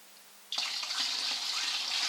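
Alcohol poured into a container already holding 2 litres of water, diluting the spirit to 40 percent; a sudden steady gushing pour starts abruptly and continues loud and close.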